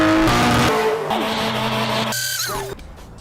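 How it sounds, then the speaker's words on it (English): A car does a burnout at the Donut Garage. A loud, close engine roars as its pitch shifts, with squealing tires layered over it, and the sound cuts off abruptly near the end. "we're going to talk about the best burnouts that have ever happened here at the Donut"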